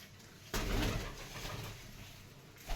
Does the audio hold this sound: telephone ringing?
no